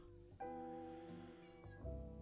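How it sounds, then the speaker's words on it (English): A house cat gives two clear, close meows, a long drawn-out one followed by a shorter rising call, loud against a quiet room. "Hold on, I gotta get my cat out of here."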